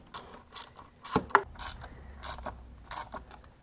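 Ratchet working on the 10 mm bolts that hold the coil packs on a Toyota 2GR-FE V6 engine, a series of short mechanical clicks and ratcheting bursts with a couple of sharper knocks, close by and moderately loud.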